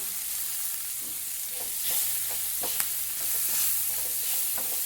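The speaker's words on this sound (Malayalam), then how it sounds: "നമുക്കൊന്ന് ആദ്യം നല്ല നല്ലതുപോലെ വഴറ്റിയെടുക്കാം" Onion sautéing in a pan for a chemmeen ghee roast, with a soft continuous sizzle and scattered clicks and scrapes of a spoon stirring, heard close with no voices.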